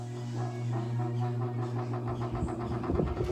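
The fan motor of a used Haier 5,200 BTU air conditioner runs with a loud, steady droning hum and layered tones, turning rougher and more rattly near the end, with no speech.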